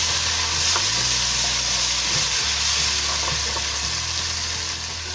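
Curd being stirred into masala sizzling in a pan for restaurant-style matar paneer, a steady loud fry with scraping spoon strokes throughout and no talking.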